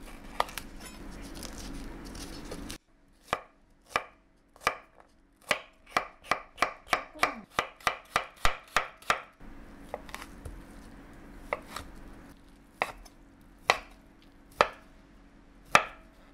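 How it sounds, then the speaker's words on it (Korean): Knife chopping vegetables and ham for a pastry pizza, a quiet run of crisp, evenly spaced taps on a cutting board, speeding into a quick burst before slowing back to scattered single cuts. "피자에 들어갈 채소와 햄을 썰어줍니다."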